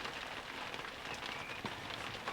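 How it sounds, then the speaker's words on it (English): Rain falls steadily outside a shed, a dense, even hiss of drops with occasional louder patters, close and continuous. "I'm going to leave you with some rain until the battery runs out"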